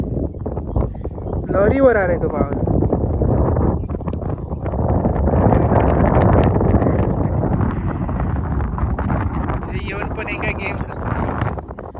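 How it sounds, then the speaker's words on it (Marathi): Strong wind buffets the microphone on a high hilltop near Kankavli in rainy Konkan weather, a steady heavy rumble lasting throughout with voices speaking underneath. "पाऊस वारा तर खूप खूप भयानक वारा"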